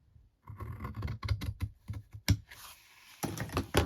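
Card stock being cut while making a tall Christmas gift box for hand cream, a run of crisp snips and scraping cuts in quick succession, close and fairly quiet, with no talking.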